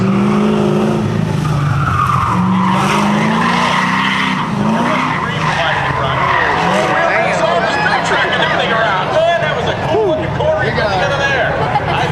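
Tires screech and skid loudly as a 1969 AMX slides and spins out at an autocross event, with engine roar and a crowd murmuring beneath throughout.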